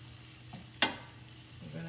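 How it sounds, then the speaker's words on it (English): Fresh spinach is dropped into a hot cooking pan while making crab-topped garden rotini with pesto, giving one sudden sharp sizzle burst that quickly fades into a low, quiet simmer. "I'm going to add my spinach to the mix."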